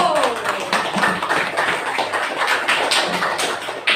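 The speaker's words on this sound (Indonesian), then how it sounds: "Beri tepuk tangan dulu." Students in a classroom clapping their hands together, a burst of brisk, scattered claps at moderate loudness with voices mixed in.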